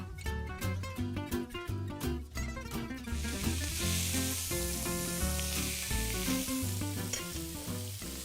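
Steaks hit a hot, flat Beko Selection grill plate: a rhythmic rattle for a few seconds gives way to a loud, steady, close sizzle that fills the rest of the time, with no voices.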